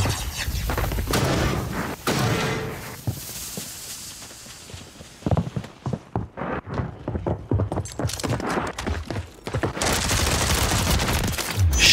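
Rapid MP5 submachine-gun bursts in Warzone, a loud close run of repeated shots in clusters with brief pauses, plus booming impacts in the mix.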